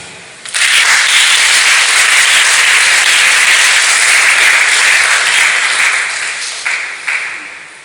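A church congregation bursting into loud sustained applause, dense rapid clapping that holds steady for several seconds before gradually thinning out.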